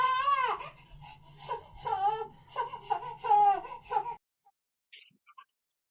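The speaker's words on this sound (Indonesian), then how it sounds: "emang ada suara noise bayi menangis di belakang" A baby cries in the background in a loud, wailing, uneven series of sobs with brief pauses, captured by an ASUS ZenBook Flip S UX371 laptop microphone, then cut off abruptly into near silence.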